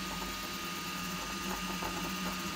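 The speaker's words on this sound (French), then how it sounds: "Et l'imprimante va reprendre son impression." A 3D printer resuming a two-color print, its stepper motors whirring and buzzing in a steady mechanical drone with faint rhythmic ticks, moderately quiet and with no speech.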